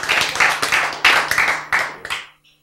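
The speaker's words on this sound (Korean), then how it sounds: "박수!" A church congregation claps during a sermon in a few uneven bursts of hand claps, close and fairly loud, fading out into silence after about two seconds.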